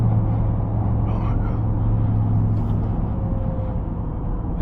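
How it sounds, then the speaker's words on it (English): Birmingham city traffic heard from inside a truck, a constant loud low rumble of engines and road noise throughout, steady and enveloping. "This is one of the downsides of Birmingham. All the traffic."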